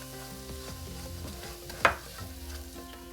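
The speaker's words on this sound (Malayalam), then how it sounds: "ഉള്ളിയും മുളകും ചേർത്ത് 1-2 മിനിറ്റ് വഴറ്റി ഇനി അതിലേക്ക് ചേർക്കുന്നത് 1 കപ്പ് തേങ്ങ" Onion, chili, curry leaves and grated coconut sauté in a pan for a green plantain thoran, giving a soft, steady sizzle. About halfway through comes a single sharp clink of a utensil against the pan.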